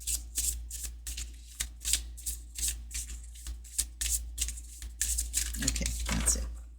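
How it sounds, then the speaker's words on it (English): Oracle cards shuffled by hand at close range, a quick series of papery riffles and slaps in an uneven rhythm, alone over a faint low hum. "I'm going to keep shuffling and tell them I'm taking them off the top"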